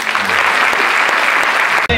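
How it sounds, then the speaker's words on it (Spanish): Studio audience at a stand-up comedy show bursts into loud, steady applause for a comedian, a dense wash of clapping that holds evenly before cutting off abruptly at the end. "Fuerte el aplauso para Fernando el Pelao."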